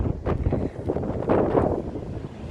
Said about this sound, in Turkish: Rüzgar karşıdan esiyor.